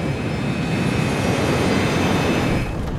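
Airliner engines roar steadily during the takeoff roll down the runway, a loud, dense, continuous rumble with no breaks and a faint high whine riding above it.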